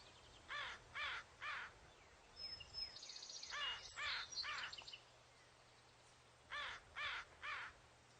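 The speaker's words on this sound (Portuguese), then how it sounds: "Mas esses gritos não são algo ao acaso. São os corvos se comunicando." A flock of American crows caws together at a distance: three harsh caws, a cluster of overlapping calls from several birds, then another set of three, over a faint steady background.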